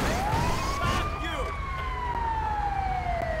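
A wailing ambulance siren in Grand Theft Auto V rises and then slowly falls in pitch over a dense bed of traffic and engine noise, fairly close and steady throughout.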